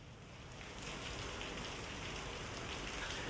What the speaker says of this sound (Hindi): ताज़ा अपडेट जो है वो ये है कि बारिश शुरू हो चुकी है